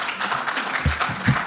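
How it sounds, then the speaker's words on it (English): An audience at an engineering dialogue event claps, a dense, moderately loud burst of applause with a few heavier hand strikes standing out toward the end. "Please, after the president speaks, we clap louder."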